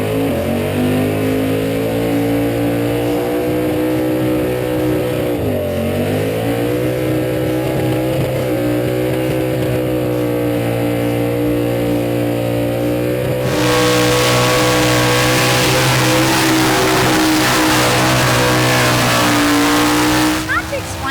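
A burnout car's engine revs hard and holds steady at a high pitch for the whole stretch, dipping once briefly, then roaring louder with added tyre and crowd noise near the end; loud and continuous, with some talk mixed underneath.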